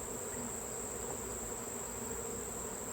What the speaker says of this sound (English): these bees are not happy with me